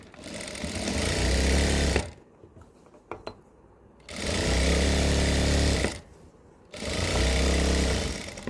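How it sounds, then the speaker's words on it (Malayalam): A sewing machine stitches the back seam of cigarette pants in two fast, loud runs of whirring, rattling needle strokes, split by a quiet pause with a few small clicks of fabric handling. "ബാക്ക് സൈഡിൻ്റെ അതുപോലെ ഒന്ന് സ്റ്റിച്ച് ചെയ്തെടുക്കാം."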